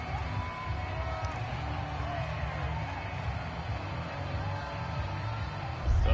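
Stadium crowd noise in a football video game, a continuous, even roar of a home crowd that holds steady and swells slightly at the end, with faint voices mixed in.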